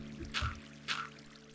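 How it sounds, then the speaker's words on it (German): Minecraft water flows into a dug-out area, heard as two short splashy whooshes about half a second apart, faint and without speech. "das Wasser irgendwie aufhalten, dass es hier nicht reinläuft"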